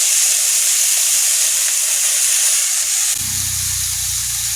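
Steady loud hiss of oil sizzling in a cooking pan with garlic, persisting throughout, with a lower bubbling tone joining partway as something is added.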